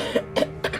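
Three short dry coughs in a loose rhythm, close to the microphone, with no talking in between.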